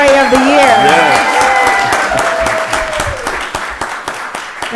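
An audience claps for the Employee of the Year at a county board of commissioners session, the applause loud at first, then thinning into scattered claps as voices and murmurs carry over it.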